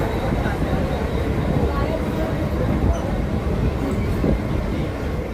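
Mumbai slow local train pulling out of Kurla station on the CSMT to Vashi run, a steady close rumble and rattle of the moving carriages filling the whole stretch, with crowd noise and a voice mixed under it.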